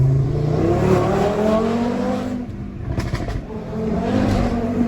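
An Audi RS3 engine roars loudly and continuously up close, revving with pitch climbs and drops as gears shift, the note briefly breaking midway before rising again.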